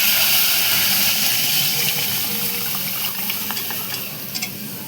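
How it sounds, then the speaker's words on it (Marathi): Cooked dal tipped into a hot pan of turmeric-spiced tempering and stirred, giving a steady close sizzle with wet splashing and light scraping that fades slightly toward the end. "आता शिजलेली डाळ यामध्ये आपण टाकून घेऊया."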